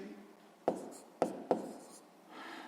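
Handwriting on paper while working a sixth-grade maths exercise: three sharp taps of a pen or chalk, followed by soft scratchy strokes, close and quiet, with no speech.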